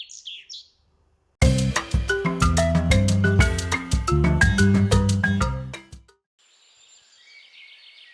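Birds chirp in brief high bursts at the start and again faintly at the end as a flock descends on a wheat field in a Hindi cartoon, with loud melodic music filling the middle.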